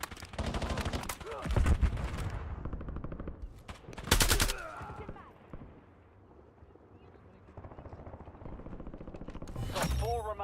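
Machine gun fire in a zombie shooter video game, with repeated rapid bursts that rise and fall over several seconds, including a heavy loud volley midway and another flurry at the end, mixed with game effects and possible voice callouts.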